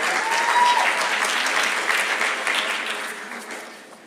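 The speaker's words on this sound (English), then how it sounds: "Let's give him a quick round of applause." An audience at an annual general meeting applauds together in a dense, steady burst of clapping that holds evenly and then fades out toward the end.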